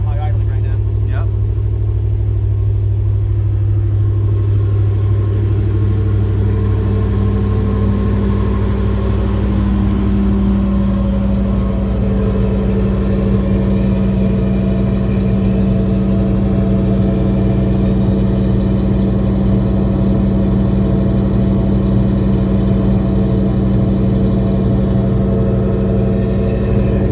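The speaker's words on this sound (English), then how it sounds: "It's full start, high idling right now." A 1992 Chevrolet 454 SS pickup with Flowmaster mufflers sits at a steady, fast cold-start high idle, a deep continuous engine drone with people talking over it.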